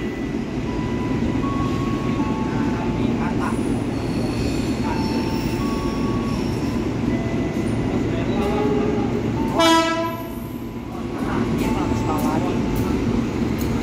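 The Argo Sindoro passenger train pulls out from track 3 at busy Jatinegara station, with a continuous rumble of rolling cars, squealing wheels and a short horn-like toot near the end, while a voice talks over it.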